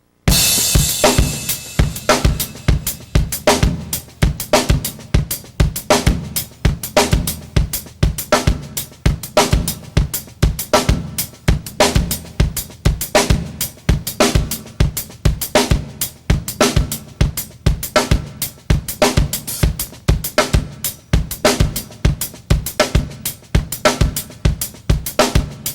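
A steady, loud drum groove with punchy kick and snare and busy hi-hat running continuously throughout without a break.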